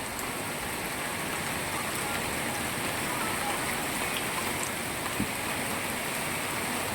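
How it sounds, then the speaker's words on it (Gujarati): Steady rain falls continuously in a Moti Gop village after the wind has calmed, a dense even hiss across the whole stretch with a faint brief drip or tap or two and no voices. "વરસાદ ચાલુ થઈ ગયો છે પાછો"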